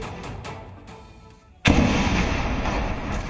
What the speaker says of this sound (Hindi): ये देखिए धमाके की आवाज आप देख सकते हैं